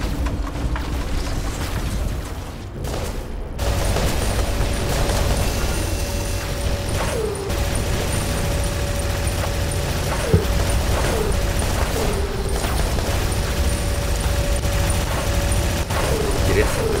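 Repeated weapon fire from combat robots in the War Robots game, with bursts of shots and booms over a constant mechanical rumble while someone talks throughout.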